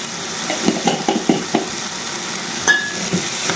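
Paneer curry with salt being stirred in a pan: a run of light spoon clicks and scrapes against the pan over a constant, fairly loud sizzle, with a brief metallic ping near the end.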